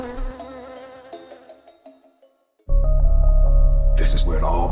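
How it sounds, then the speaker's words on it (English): Bees buzzing in a Candyman horror film trailer, a loud swarming drone that bursts in after a quiet pause and fills the second half, over low rumbling tones. "Ma'am, there's bees around you."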